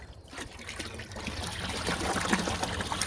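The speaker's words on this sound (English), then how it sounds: "I'm gonna go ahead and empty out this watering can." Water trickles and splashes steadily as a garden watering can is emptied outdoors, a continuous moderately loud pour with no talking.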